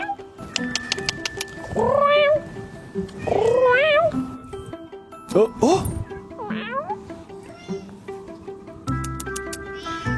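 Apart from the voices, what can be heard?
cat meowing on a street corner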